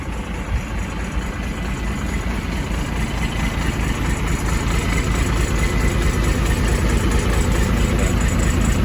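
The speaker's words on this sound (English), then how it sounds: "it's good to give a little throttle when you get it up, get that PTO going" A Ford F600 turbo diesel dump truck runs its engine with raised throttle to drive the PTO, a loud, steady low diesel rumble close by that holds constant throughout, with no talk.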